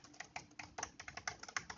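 Fast, even keystrokes on a computer keyboard as a short message is typed, a quiet, close and continuous clatter with no voices.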